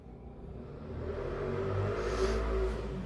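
A car or motorbike passes outside a home at night, rising from a faint rumble to a swelling, accelerating whoosh and then easing slightly. It is heard indoors, muffled and moderately quiet.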